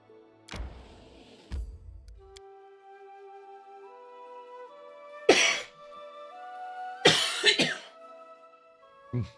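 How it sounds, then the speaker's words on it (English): A few sharp, loud coughs come in separate bursts, a throat-clearing cough early on and two harsher coughing fits later, over a quiet steady electronic tone. "Sorry for all the coughing."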